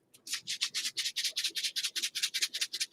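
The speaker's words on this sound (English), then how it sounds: "Can you hear those granules shaking?" Dry granules shaking inside a small moisture packet, a fast rhythmic series of about fifteen short gritty rattles, close and fairly quiet with no talking.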